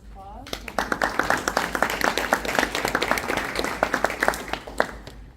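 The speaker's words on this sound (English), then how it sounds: "Just give them a round of applause." An audience at a community college contest presentation gives a round of applause, dense steady clapping that builds quickly after a brief voice and carries on for several seconds.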